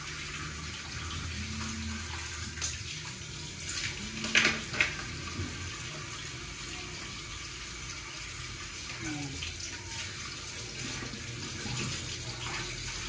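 Live river crabs are rinsed under a running tap, a steady broadband splash of water filling the sink, with a few brief louder clatters and splashes midway and quiet talk underneath.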